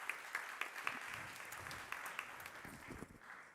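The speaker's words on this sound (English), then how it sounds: "A round of applause again for Victoria." A round of applause for a speaker at an education and skills conference, steady clapping from an audience heard at moderate distance, tapering off slightly at the close.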